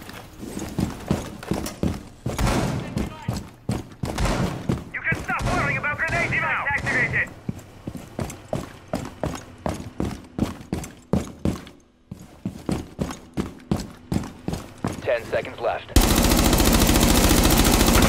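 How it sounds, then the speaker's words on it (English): Bombs and gunfire in a video game, rapid bursts of automatic fire in long repeated rhythmic strings with heavy blasts, close and loud, with a harsh roar at the end. "Hear the bombs."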